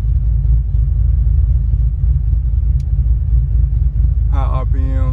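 Car engine held at high revs around 4800 RPM, a loud steady low rumble throughout from inside the cabin, with a short voice breaking in near the end.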